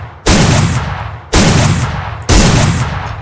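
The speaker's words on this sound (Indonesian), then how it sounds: "Gila, ini shotgun kepake banget coy. Shotgun terbaru mengerikan sekali guys ya." An M590 shotgun fires three loud blasts in a video game, each with a sharp onset and a fading roar, spaced about a second apart.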